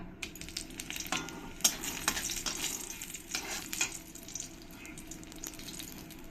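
Dried red chillies hit hot oil in a wok for a fish and water spinach curry, producing a crackling sizzle with clustered pops and scrapes early on, then settling into a quieter, steady hiss.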